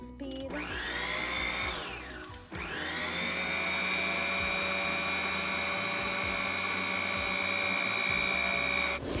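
An electric mixer churns Nutella chocolate cake batter on its lowest speed. The motor whine is steady and close and runs almost without a break, with one brief dip early on.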